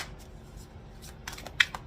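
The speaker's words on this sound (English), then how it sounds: "Let me shuffle." Quick riffling card shuffles, a few crisp bursts of flicking paper close by in a quiet room.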